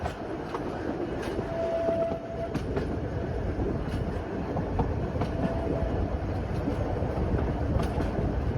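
Isle of Man Railway carriage rolling along the tracks, a steady rattling clickety-clack with shaky rumble, heard from inside at moderate level, with a brief faint squeal partway through and no talking.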